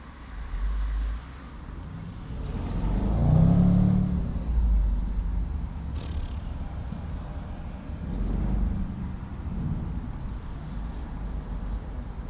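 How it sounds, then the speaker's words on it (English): A supercar's engine idles with a deep, steady rumble, swelling into a few low revs, heard from close by inside the car with no talking. "I can hear it idling now."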